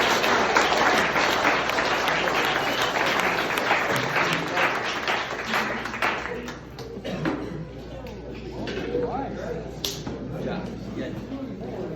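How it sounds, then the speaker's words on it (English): Audience applause at a high school baseball banquet, dense clapping from a room full of people that thins out toward the end, with a few scattered claps and some murmuring. "please give a round of applause to your juniors"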